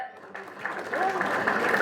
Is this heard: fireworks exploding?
no